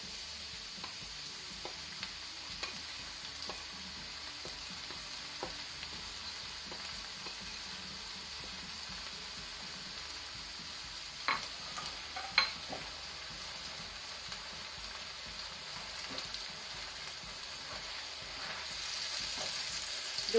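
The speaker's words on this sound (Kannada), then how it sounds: "ಇದು ಮಸಾಲೆ ಸಹ ತುಪ್ಪದಲ್ಲಿ ಒಳ್ಳೆ ರೀತಿ ಫ್ರೈ ಆಗಲಿ" Ground masala fries in ghee with a soft, steady sizzle. It is fairly faint, with a few sharper clicks and scrapes from a utensil partway through.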